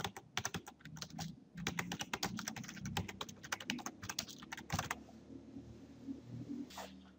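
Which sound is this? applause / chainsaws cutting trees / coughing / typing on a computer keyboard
typing on a computer keyboard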